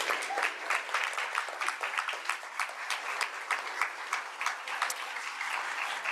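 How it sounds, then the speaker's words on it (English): An audience at a school board meeting breaks into sustained applause, dense overlapping claps at steady volume throughout, with no one speaking over it. "let's give them one more round of applause"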